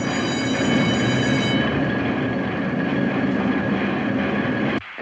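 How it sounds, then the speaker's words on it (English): A 1952 newspaper printing press runs with a dense, continuous mechanical roar and rumble, loud and steady throughout, cutting off abruptly near the end. "That noise, what's that racket? That's the press, baby."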